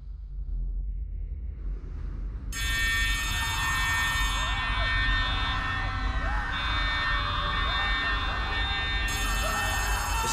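Alarms blaring in Poppy Playtime Chapter 3: after a couple of seconds of windy low ambience, a loud, harsh, buzzing siren cuts in and holds steadily to the end, with a faint repeating whoop underneath.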